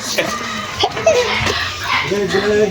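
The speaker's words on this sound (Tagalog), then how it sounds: "May aso kuya." A dog barks and yips a few times nearby, mixed in with people talking.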